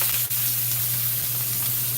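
A piece of fish sears in a hot pan, giving a steady, close sizzling hiss with a constant low hum underneath and no talking.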